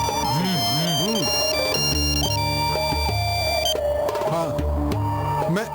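A loud electronic mobile phone ringtone plays in a Hindi action thriller film scene, a bright looping melody of stepped synth tones that carries on for several seconds under a dense music and sound mix.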